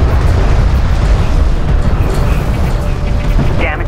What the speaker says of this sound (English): The turret is under fire.